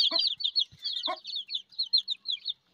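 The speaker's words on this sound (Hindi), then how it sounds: "आवाज़ों से पता चल गया होगा तकरीबन यहाँ पे देखो ये आ गए हमारे न्यू न्यू चूचे" Newly arrived young chicks in a village setting chirp in quick, repeated high-pitched peeps, close and clear, with a couple of brief lower clucks from a hen mixed in.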